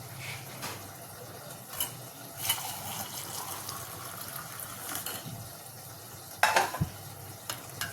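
Milk being stirred into rice in a school lunch box, soft wet scraping and clinking strokes at an uneven rhythm, quiet and close, with small knocks of the spoon against the box.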